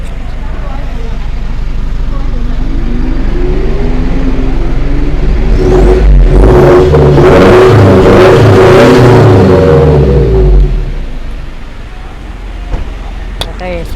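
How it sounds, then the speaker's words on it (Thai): A Mitsubishi Pajero Sport Elite Edition with a long HKS exhaust revs up, its engine swelling from a steady idle into a loud, close, rising roar with a throaty drone, then dropping back to idle. "เดี๋ยวผม ลองเร่งนะครับ เดี๋ยวลองฟังเสียงดูนะครับ"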